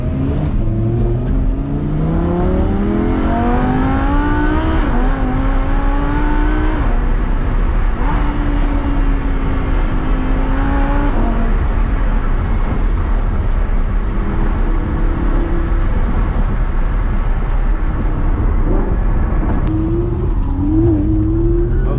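Lamborghini Huracan LP580-2 engine driven hard on a road, loud and close, repeatedly revving up through the gears with rising pitch and brief drops between shifts.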